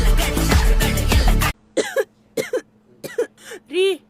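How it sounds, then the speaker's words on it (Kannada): A man coughs in a comedy sketch, several short, harsh bursts in an uneven rhythm, loud and close, following a stretch of music. "ರೀ, ನನ್ಗೆ 3 ತಿಂಗಳಿಂದ ಕೆಮ್ಮು ಸ್ಟಾರ್ಟ್ ಆಗಿದೆ."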